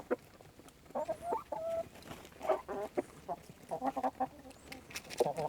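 Hens in a backyard coop cluck and squawk in bursts, several birds close by chattering over one another in an uneven, busy rhythm.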